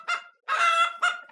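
A hen offered as a gift gives three loud, close, honking clucks, the middle one longest, separated by short pauses, with no talk.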